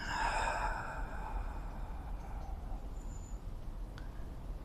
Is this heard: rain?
no